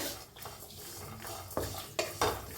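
Sesame seeds and coconut dry roasting in a pan, heard as a soft, close stirring scrape with a few sharper clinks of a spoon against the metal near the end and no talking.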